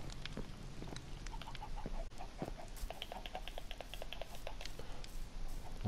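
Chickens in a pen in Minecraft give out repeated short clucks over a steady low background hum, fairly faint, with no voices.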